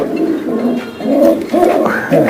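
Racing pigeons at a Bangladeshi bird sale coo in low, rolling phrases close by, several overlapping calls swelling and repeating in short bursts without any talk.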